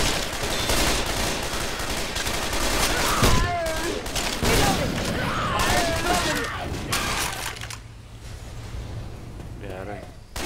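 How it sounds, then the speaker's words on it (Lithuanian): Grenade launcher and other weapons firing in the zombie shooter Left 4 Dead 2, dense overlapping blasts and gunfire throughout with a player talking over them, thinning out toward the end. "Pasiemo grenade launcherį, dabar ir apšaudžiu juos."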